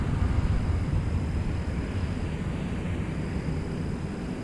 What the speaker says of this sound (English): There's definitely some rumblings going over there over at the airport.